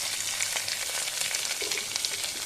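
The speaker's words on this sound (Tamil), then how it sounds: "கருவேப்பிலை போட்டுக்கலாம் போட்டோம்னா வெங்காயம் எடுத்து அதை நம்ம சேர்த்துக்கலாம்" Onion and curry leaves sizzle steadily in a hot pan while snake gourd kootu is cooked, a dense, even frying hiss with faint crackles and no voices.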